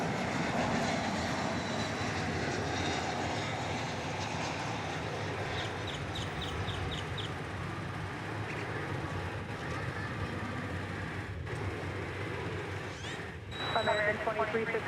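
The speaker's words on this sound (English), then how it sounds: "American Airlines Flight 1880, Airbus A320" An American Airlines Airbus A320 jet at DFW Airport gives off a steady, loud, broadband roar that holds for the whole stretch and swells slightly near the end.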